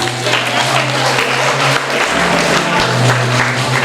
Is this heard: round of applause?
yes